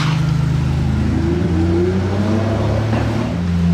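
A Lamborghini Aventador S supercar in a convoy through Monaco, its engine loud and close with a rising, howling rev as it passes, sustained over a few seconds.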